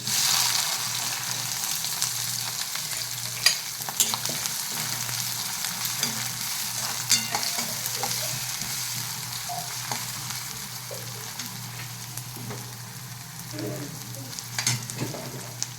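Chopped green chillies and capsicum fry in hot oil for a vermicelli masala dish, giving a soft, continuous sizzle with occasional stirring clicks, fairly quiet and steady throughout.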